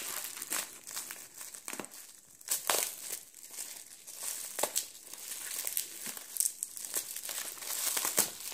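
Crinkly rustling and crackling of wrapping paper being torn open on a taped-up package, with bursts of sharper tearing as tape gives way, close and continuous.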